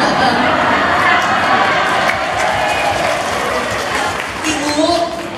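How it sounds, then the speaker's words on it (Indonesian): An audience claps in a mosque during a religious talk show, a dense, steady wash of applause that fades slightly toward the end, with voices mixed into the crowd noise. "Ibu tepuk tangan dalam masjid."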